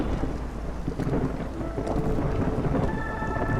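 A storm sweeps over the Cursed Royal Woodlands in the city-builder Against the Storm, with loud, dense rain and rolling thunder rumbling continuously, plus faint game tones near the end.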